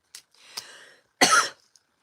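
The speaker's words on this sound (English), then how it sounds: "Don't mind me coughing." A person with asthma coughs a few times close by, a small cough, a rough throaty rasp, then one harsh, louder cough.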